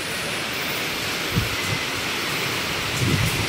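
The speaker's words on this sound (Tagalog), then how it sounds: "At lumalakas na ang ulan, oh." Steady, dense hiss of heavy typhoon rain pouring down in Taisan, constant and loud throughout with faint low rumbles underneath.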